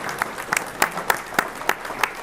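Thin, scattered clapping from an audience at a justice center ribbon-cutting and dedication ceremony, honoring the police. Individual claps sound out a few at a time rather than as a full wave, moderately close.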